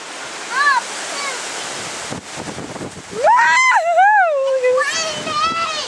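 Strong wind roars through a wind storm in La Corey, Alberta, a steady broadband rush buffeting close to the microphone throughout, under children's excited squeals and adult voices talking.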